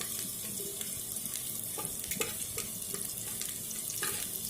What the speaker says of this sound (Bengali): সর্ষের তেলটা একটু গরম হতেই আমি এর মধ্যে পেঁয়াজ দিয়ে দিচ্ছি।